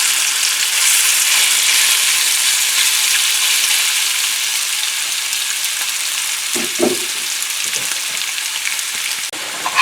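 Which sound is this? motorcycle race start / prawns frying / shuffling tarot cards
prawns frying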